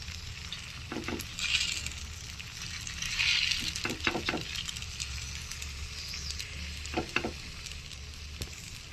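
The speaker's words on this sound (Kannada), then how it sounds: "ಇದರಲ್ಲಿ ನಾನು ಈರುಳ್ಳಿ ದೋಸೆ ಮಾಡ್ತಾ ಇದ್ದೀನಿ, ಹಂಗಾಗಿ ಇದೆಲ್ಲ ಹಾಕ್ತಾಯಿದ್ದೀನಿ." Onion dosa with red carrot frying in a pan, a steady sizzle and crackle running throughout with a few sharper pops and stirring clicks, close and moderately loud.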